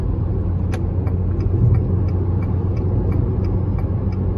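Jeep Renegade Longitude 1.8 Flex running on petrol at a steady 100 km/h, a constant low engine and road drone with a faint regular ticking over it, no voices.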